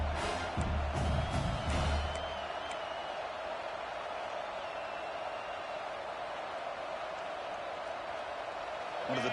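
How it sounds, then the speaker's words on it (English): Crowd noise from a college football video game championship, a broad steady roar of cheering and applause with a few sharp accents early, sustained throughout beneath the action. "the crowd really getting into it"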